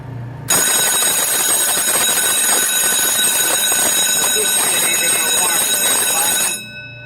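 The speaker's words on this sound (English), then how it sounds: "And you can silence that alarm." An electric alarm bell on a Blue M POM-12VA-2 vacuum oven rings loud and continuous, starting abruptly after half a second and cutting off near the end.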